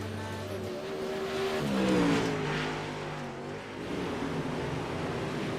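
Dirt modified race cars drone around Lernerville Speedway in an iRacing UMP Mods event, engine tones rising and falling in pitch as cars accelerate and pass. The roar is steady and continuous throughout, with no talk.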